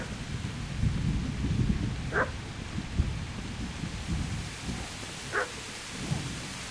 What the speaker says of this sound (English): Just follow the dog barking